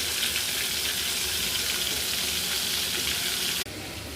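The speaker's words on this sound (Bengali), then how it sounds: "ওর বাবা দুটো মাছ ভাজি করতেছে।" Two fish frying in a pan, a loud, dense, continuous sizzle that drops abruptly near the end.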